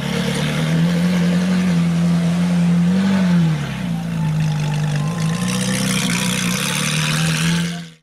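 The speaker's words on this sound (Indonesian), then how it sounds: "Di sini ada mobil Ferrari." A toy Ferrari car gives off a loud, continuous engine drone with a steady low hum that briefly rises then settles, running evenly for several seconds before cutting off.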